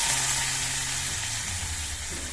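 A hot tempering of mustard seeds, dried red chillies and curry leaves in oil hits Kerala-style theeyal curry with a brief, dense sizzle that hisses steadily and fades slightly.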